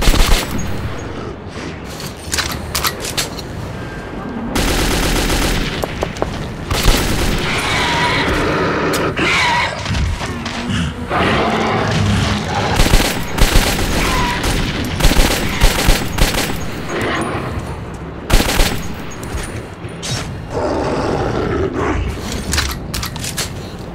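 Heavy gunfire in Metro 2033 comes as loud, dense automatic bursts and single booming shots, with mechanical clanks and short pauses, close and intense throughout.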